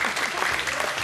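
A studio audience on a Ramadan iftar TV show claps in a brief, dense burst of applause, loud and continuous.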